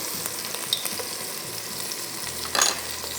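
Ginger garlic paste and sliced tomato frying in a pot, a steady close sizzle with a sharper crackling burst near the end, no voices.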